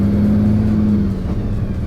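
A MAN TGM 18.250 refrigerated rigid truck pulls in third gear heading into a roundabout, its engine droning loud and steady up close with a low hum from the cab.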